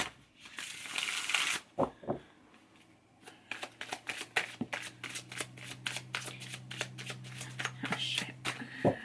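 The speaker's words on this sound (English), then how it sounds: "let's pull one of these brutal cards." Tarot cards are shuffled in rapid riffling bursts and pulled from the deck, close and crisp, with a brief spoken exclamation.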